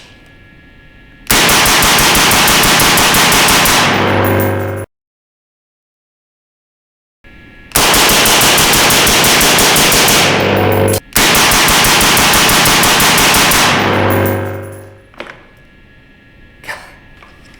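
Rifle fire through a SiCo Velos LBP suppressor comes in three bursts of rapid automatic shots, loud and close. The bursts are separated by short pauses, and the last one tails off into a few isolated shots.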